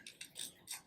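A hand ratchet turns a new socket, giving a short series of soft mechanical clicks and whirring pawl ticks, heard close and fairly quiet.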